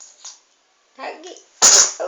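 A single sharp sneeze bursts out near the end, preceded by a quick intake of breath and a few soft vocal sounds.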